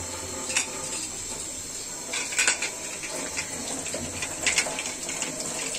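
Water runs steadily from a tap over a metal pressure cooker lid being washed, with occasional clinks and knocks of metal against the sink under the constant rushing flow.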